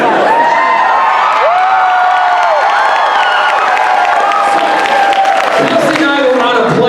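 A theatre crowd at a live stage show claps, cheers and whoops, loud and close, with many overlapping voices shouting through the applause.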